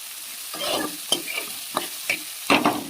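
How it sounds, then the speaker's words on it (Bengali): Soybean chunks fry in a pan while being stirred, a steady close sizzle punctuated by several sharper scraping bursts at irregular intervals, with no voices. "ভেজে নিলে সোয়াবিনটা বেশি টেস্ট হবে।"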